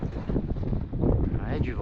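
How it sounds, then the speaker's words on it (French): Wind blows on a sailboat, a Mahé 36 catamaran in strong winds, with gusty buffeting across the microphone and a voice speaking over it close by. "Ouais, du vent, on voit hein, dans le drapeau, ça souffle."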